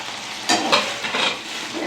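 Chicken 65 pieces are stirred into sauce in a hot pan, giving a close sizzle with two quick scraping strokes of the spoon.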